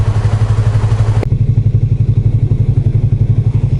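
Close, loud motorcycle engine running at a steady idle-like rhythm, a sharp thump early on, then continuing pulsing with no talk.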